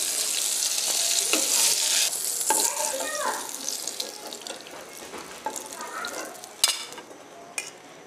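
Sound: fried pointed gourd being lifted out of the pan

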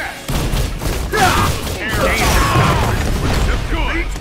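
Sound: Proton Cannon attack in the video game Marvel vs. Capcom: Infinite

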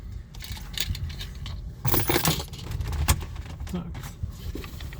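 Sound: keys falling behind a car seat

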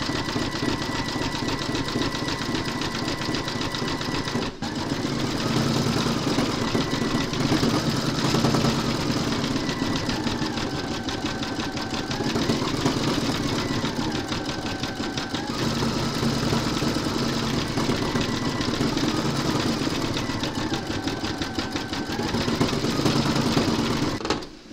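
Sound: embroidery machine stitching a design

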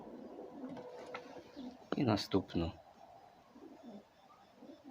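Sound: pigeon cooing

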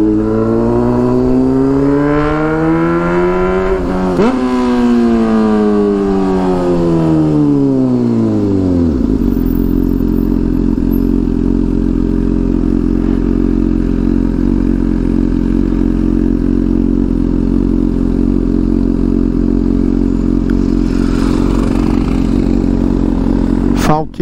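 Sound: Honda Hornet motorcycle exhaust revving

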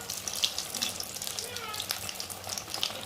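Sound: frying egg chops in oil

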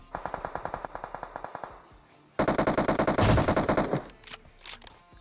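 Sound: gunfire in the video game PUBG Mobile

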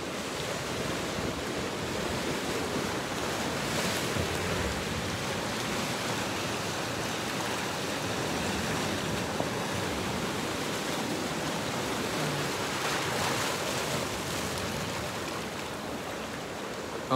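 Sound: waves on a rocky beach in Cornwall

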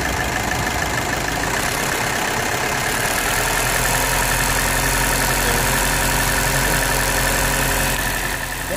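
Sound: VW Jetta 2015 Bosch common rail engine being revved

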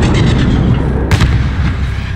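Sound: flare launcher fired from roof in Call of Duty video game

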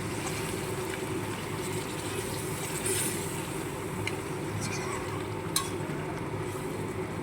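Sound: pouring reserved pressure-cooker water into mutton curry

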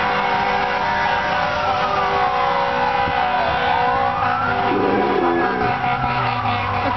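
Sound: emergency vehicle sirens

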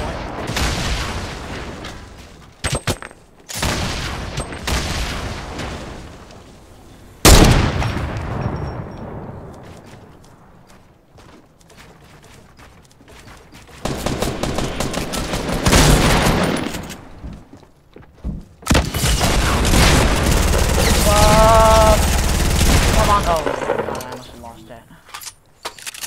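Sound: gunfire, grenades and RPG explosions in video game Fortnite

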